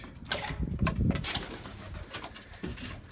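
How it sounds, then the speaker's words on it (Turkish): Domestic pigeons coo in a loft, a steady murmur of overlapping low, throaty calls from several birds close by, with a few soft rustles and no talk. "Şimdi artık güvercinlerimizi çıkaralım."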